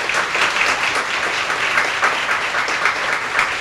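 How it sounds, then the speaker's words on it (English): Sustained audience applause for volunteers at a health innovation program launch event, a dense, even wash of many hands clapping at moderate loudness throughout. "Can we please get a huge round of applause for all of our volunteers?"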